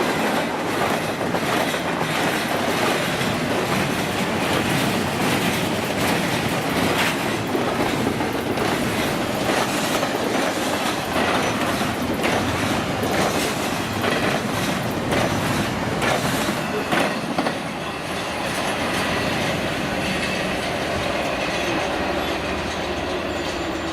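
A freight train rolls past on a railroad, loud and close, with a continuous roar of wheels and rhythmic clickety-clack over rail joints, plus faint squealing, easing slightly in the final seconds.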